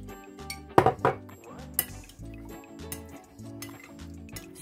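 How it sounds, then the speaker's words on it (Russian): A spoon stirs a salted, sugared vinegar marinade for onions in a dish, giving a few sharp clinks against the bowl and soft liquid swishes, close and intermittent. "Все перемешиваем."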